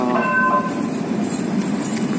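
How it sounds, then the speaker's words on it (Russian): A tram passes along a street in Antalya, Turkey, heard as a steady rolling rumble of rail traffic with a brief tonal ring near the start, fairly close against city background noise. "О, трамвай. Трамвай."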